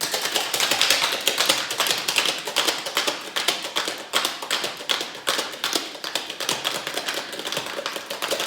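Cocktail shaker tin packed with ice, holding dark creme de cacao and cream, being shaken hard: a rapid, steady rattle of ice striking metal, close and loud, with no voices.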